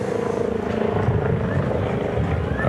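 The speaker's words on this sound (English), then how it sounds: "we got a helicopter coming here." A helicopter flies nearby at an elk camp, giving a steady, loud rotor drone with constant chopping throughout, heard as continuous background noise.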